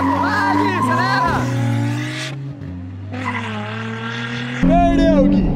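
Nissan 350Z and Volkswagen Jetta 2.0 turbo accelerating hard in a street race, loud revving engines climbing through gear shifts with tire squeal, close by, while excited voices shout over them.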